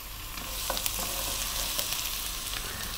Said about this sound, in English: we're now gonna go with the garlic and the ginger